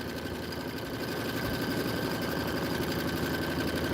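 A sewing machine runs steadily while stitching a quilt, giving a dense, continuous mechanical whir with a fast rhythmic chatter, loud and close with no pauses and no voices.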